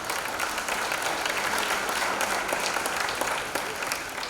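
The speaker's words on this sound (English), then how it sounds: "They're all clapping because it's cooler." A crowd claps steadily at the evening launch of Pink Dot 2017 with its ambassadors, a dense, even wash of applause that holds for several seconds and eases slightly near the end.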